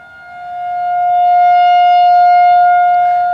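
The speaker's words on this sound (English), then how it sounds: "The siren's getting ready to go by." A Federal 2001 tornado siren sounding during a tornado warning, one steady, loud mechanical wail that swells as it rotates toward the listener and holds at full strength, with faint background noise beneath.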